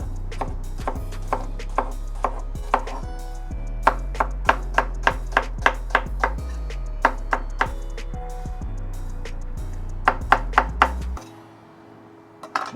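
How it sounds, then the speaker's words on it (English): Knife dicing a peeled onion on a cutting board, sharp rhythmic chops in quick runs with brief pauses, close and crisp, ending abruptly. "And that'll give you nice diced onions."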